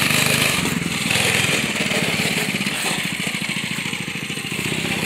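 A go-kart engine runs close by with a steady, throbbing putter that pulses rapidly and evenly throughout, with no talking.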